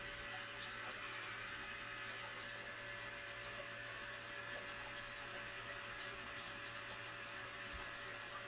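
Steady water rushing through a deep well silicone mat sluice fitted with a water bar, a smooth continuous flow with a pump hum underneath, constant and unbroken.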